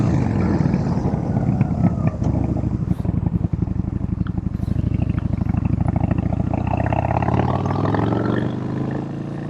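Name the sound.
Yamaha Bolt 950 motorcycle engine rumbling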